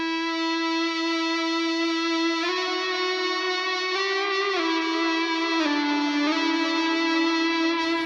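Sustained, singing electric guitar notes played with an eBow, smooth violin-like swells, drenched in delay and reverb, a few slow pitch changes, no voices.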